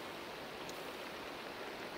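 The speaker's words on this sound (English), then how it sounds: "It's raining, isn't it?" Rain falls in the Island Survival video game, a steady, fairly faint hiss of downpour that holds evenly throughout with no voices.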